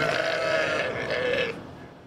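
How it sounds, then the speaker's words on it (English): Jacob sheep, a small heritage breed, at a state fair sheep and wool competition give a single drawn-out, throaty bleat, fairly close and steady for about a second and a half, then fading into quiet barn ambience. "Jacob sheep are a small heritage breed"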